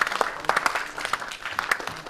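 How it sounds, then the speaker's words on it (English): Audience applause after a presentation in the Mariana Islands: a brief, steady burst of many hands clapping at moderate loudness, dense and uneven, with no voices over it. "Another round of applause"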